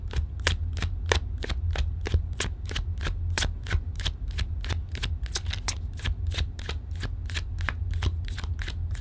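A deck of tarot cards is shuffled in a rapid, even run of crisp riffling clicks that continues throughout, close and fairly loud.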